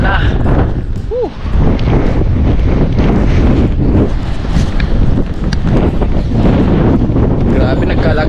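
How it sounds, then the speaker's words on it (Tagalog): Strong typhoon wind buffets the microphone in loud, continuous rumbling gusts around a house, with a brief voice briefly heard early on. "Yan, lakas ng hangin."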